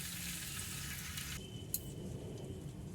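Cumin seeds and bay leaves sizzling in hot oil in a pan, a steady close crackling hiss that holds evenly throughout with no talk over it.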